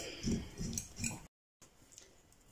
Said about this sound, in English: I will whisk it, turn it with this egg whisk